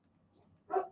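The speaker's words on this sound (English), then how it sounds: "that is Potter with the big bark" A single big dog bark sounds as one short, fairly loud burst after a quiet moment of low background hum.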